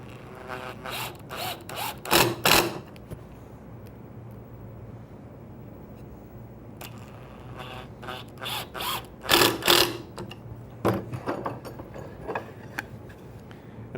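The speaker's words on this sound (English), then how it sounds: "Then simply drive the screws in." Screws are driven into wood by hand to close a glued screw joint in woodworking, giving clusters of sharp ratcheting, creaking turns in two bursts separated by quieter handling, close and fairly loud with no talking.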